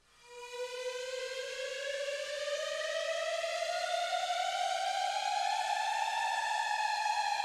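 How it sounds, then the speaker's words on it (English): A civil-defense-style siren sound effect in an electronic music track slowly rises in pitch after swelling in, sustaining a loud, steady wail on its own. "And it sounds like a real sort of alarm"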